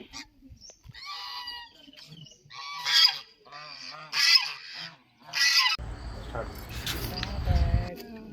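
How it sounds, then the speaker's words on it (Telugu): Ducks honk and quack loudly in a repeated series near a Kali Mata temple in Shamshabad, followed by a burst of broadband noise at the end. "ఇక్కడ బాతులు"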